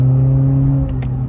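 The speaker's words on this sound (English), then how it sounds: "So second gear, stepping on the gas." A 2018-2022 Honda Accord with its muffler and resonator deleted pulls hard in second gear, a loud, steady low exhaust drone with rising harmonics heard from inside the cabin for just over a second.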